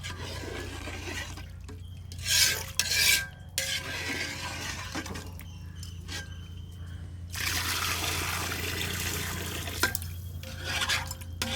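Water splashes into a pot of chicken biryani in a few pours, with clinks of a utensil and light stirring sounds between them.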